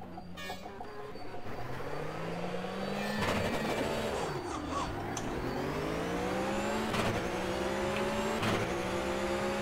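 Race cars launching at the start of a Flat6 FunCup race at Mid Ohio in the rFactor sim, with engines climbing through gears in rising whines, a pack of cars roaring together, and sharp shift cuts, loud and continuous.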